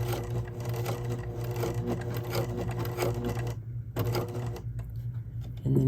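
A sewing machine stitches a fabric hem with the presser foot down, running in a fast, steady mechanical clatter up close, pausing briefly near the end before starting again.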